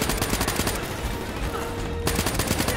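Rapid automatic gunfire in the shooter game Call of Duty: Black Ops 3, a steady stream of loud, closely spaced shots with a short break partway through before the firing picks up again.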